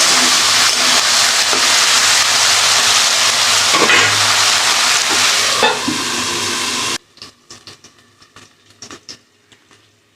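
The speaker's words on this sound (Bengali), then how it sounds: "আর কি সুন্দর কচুরলতিটা ভাজাও হবে" Taro stolons (kochur loti) fry in plenty of oil over medium heat with a loud, dense sizzle that suddenly drops to a quieter scatter of soft crackles and pops.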